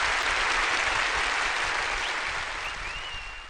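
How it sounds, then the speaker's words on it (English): Steady, dense applause like a large crowd clapping holds at an even level throughout, alone with no voices over it, fading slightly at the end. "Clap."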